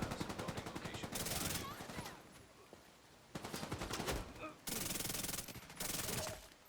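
SMG gunfire in The Division 2 video game bursts out in rapid automatic strings, several loud sustained volleys separated by short pauses and quieter stretches, with faint voices underneath.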